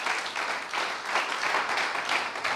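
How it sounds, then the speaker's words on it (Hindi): An audience at a network-marketing training session for the 4-Square company bursts into steady, dense applause that carries on throughout, with no talk over it. "मैं चाहूंगा एक बार जोरदार तालियां आप सभी लोग बजाइए।"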